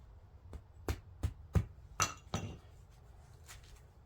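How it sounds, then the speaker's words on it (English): Hammer striking nut husks to break them off, a series of sharp hard knocks at irregular spacing, close and fairly quiet, with no talk. "Let's just start breaking husks off."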